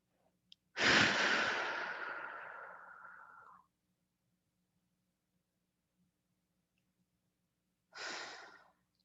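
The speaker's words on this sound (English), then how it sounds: "taking a few deep breaths" A deep inhale-exhale breath during a guided meditation, one long airy breath lasting about three seconds followed by a shorter breath several seconds later, close and alone in a quiet room.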